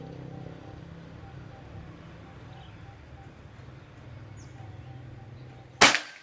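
A single sharp, snapping crack from a PCP air rifle, a Bocap Pajero Gun full CNC Gen 5 with sonokeling wood, fired at a target, bursts out close near the end after quiet background ambience.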